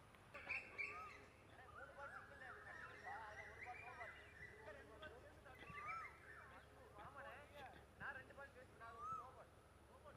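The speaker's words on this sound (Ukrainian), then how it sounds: "як співають пташки. А вони тут з усіх сторін." Faint birdsong with varied chirps and trills from several birds at a distance, continuing throughout over a quiet outdoor background at a hotel in the Maldives.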